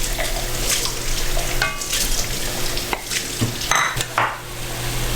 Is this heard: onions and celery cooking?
yes